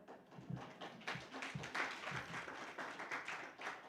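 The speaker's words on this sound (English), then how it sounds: "a round of applause to that lady" A round of applause during a Sunday church service at a spiritual living center, with scattered clapping building into a steady, moderately loud patter lasting a few seconds.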